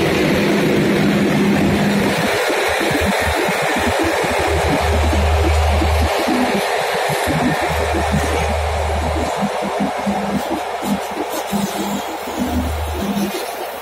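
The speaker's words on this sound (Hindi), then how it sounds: "हमारी ट्रेन अब चल पड़ी है इधर से लुधियाना जंक्शन से, सरबत्ता भला एक्सप्रेस" The Sarbat Da Bhala Express, an LHB-coach train hauled by a WDP-4 diesel locomotive, pulls out of Ludhiana Junction with a loud, steady engine drone and deep throbbing rumble, heard close from onboard.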